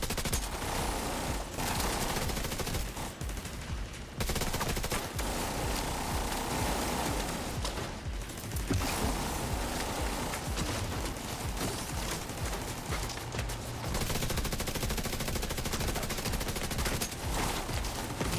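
Sustained automatic gunfire in The Division 2, a loud, continuous barrage of rapid shots with short breaks, mixed with dense game noise.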